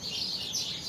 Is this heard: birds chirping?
yes